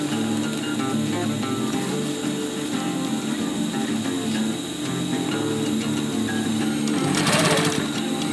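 A sewing machine runs steadily and fast while stitching a 30L backpack, its motor and needle making a dense, even whir throughout, with a short hissy burst near the end.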